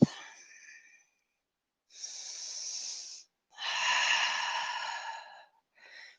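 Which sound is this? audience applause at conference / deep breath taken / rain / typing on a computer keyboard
deep breath taken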